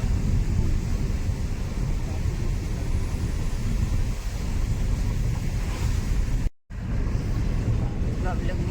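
Strong wind roars and buffets the microphone continuously and loudly, with a momentary dropout near the end.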